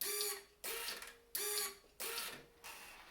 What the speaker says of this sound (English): I just want to make sure that the bike still shifts and everything.